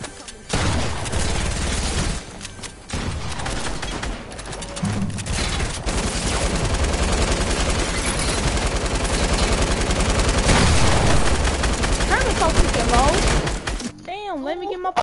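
Rapid bursts of automatic gunfire in a video game, dense and loud for most of the stretch with short breaks, then cutting off near the end as other game sounds take over.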